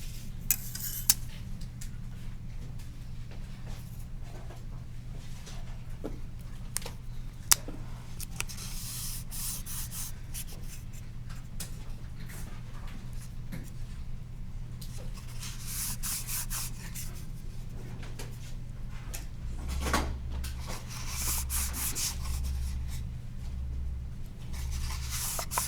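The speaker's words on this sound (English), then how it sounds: "now I'm going to fold these." Paper pieces folded and creased by hand while building a marble roller coaster frame, a steady close rustling and rubbing with occasional sharper crackles and taps, over a constant low hum.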